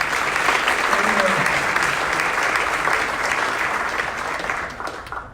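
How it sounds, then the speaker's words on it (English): Sustained applause from a meetup audience, dense steady clapping that fills the space and tapers off near the end, with some voices mixed in. "Again, you can clap for them."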